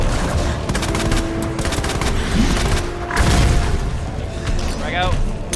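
A frag grenade goes off in Resident Evil 2 amid a dense, continuous crackle of gunfire and booms, loud and close, with a talking voice over the din.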